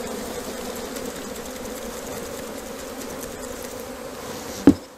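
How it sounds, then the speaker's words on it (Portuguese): A steady low buzz of a swarm of bees hums continuously around a bait hive box, ending with a single sharp knock on the box near the close. "Então vamos aqui balançar as abelhas."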